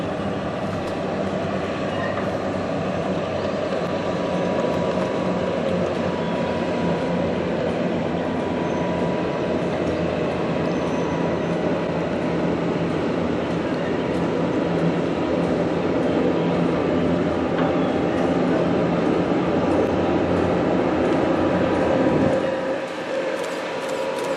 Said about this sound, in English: Here we see the Lima Limited as it crosses the river with Lebanon, Mason, and Monroe number 55 leading the train.